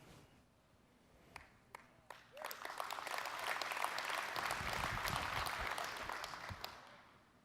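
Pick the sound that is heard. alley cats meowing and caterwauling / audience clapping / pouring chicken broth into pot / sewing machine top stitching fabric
audience clapping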